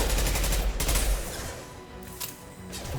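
Rapid battle rifle fire in the Mass Effect 2 video game, a loud burst of close, dense shots with a heavy low-end thump that fades into lighter crackling.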